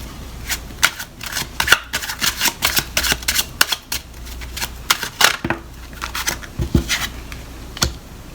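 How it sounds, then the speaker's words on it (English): Tarot cards are shuffled by hand in quick bursts of crisp riffling and slapping, close and fairly loud, with short pauses between runs. "I'm just going to shuffle these and then split them unless a card falls out."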